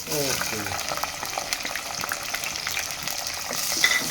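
Green chillies and a large onion frying in a pan with mustard seeds and cumin, a continuous close sizzle with spoon scrapes and stirring clatter throughout.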